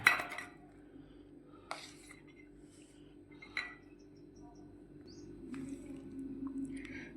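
Homemade shrikhand is scooped into a bowl with a spoon, producing a few soft, sparse metallic clinks against the dish over a quiet kitchen background.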